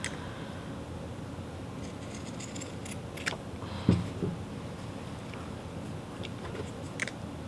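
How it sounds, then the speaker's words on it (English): Scissors trim the seam allowance on linen napkin fabric with a few quiet, scattered snips and small clicks against a faint room background, with no talking. "You'll need some scissors or pinking shears, and what we're going to do is we're going to trim this down to about a 1/4 inch seam allowance."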